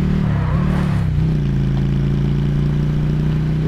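Motorcycle engine in the video game Call of Duty Blackout, a steady mid-pitched hum that dips and rises at the start, then holds a continuous loud drone alone without speech.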